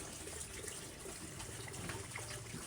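Water pours and gushes steadily into a container for pigs, a continuous splashing wash with a faint background hum throughout and no voices.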